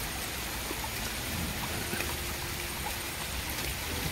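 Heavy rain at night beside a stream during crab hunting, a dense, even hiss of falling water that stays steady and fairly close throughout, with no voices.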